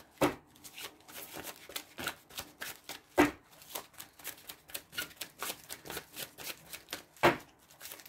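Tarot cards shuffled by hand in a steady run of crisp riffling bursts and soft slaps, close and fairly quiet, with a few sharper snaps standing out, and no talking.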